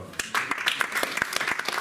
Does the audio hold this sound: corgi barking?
no